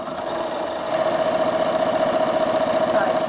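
A sewing machine runs steadily, stitching down a beach towel bag with a constant close mechanical hum and a fast, regular chatter, lifting slightly in pace partway through.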